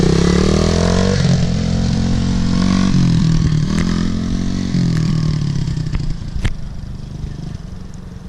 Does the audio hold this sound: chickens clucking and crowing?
no